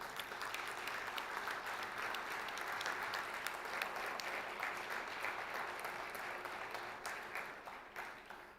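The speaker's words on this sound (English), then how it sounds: "I was going to ask you to applaud our hosts and the leaders, but you have preceded me" Sustained applause from a parliamentary conference audience, a dense wash of many hands clapping at an even level throughout, tapering slightly at the end.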